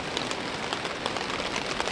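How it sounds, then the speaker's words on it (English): Heavy rain falls steadily at a riverside campsite, a dense continuous hiss of drops with scattered sharper patters close by, no voices. "And it's raining quite a bit"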